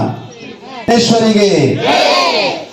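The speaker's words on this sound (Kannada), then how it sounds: "ಎಲ್ಲರೂ ಸೇರಿ ಜೋರಾಗಿ ಜೈಕಾರ ಹಾಕಣ್ವಾ" A crowd at a Kannada organisation's office inauguration shouts a loud victory cheer together, a sudden swell of voices rising in unison after a lone call, close and sustained to the end.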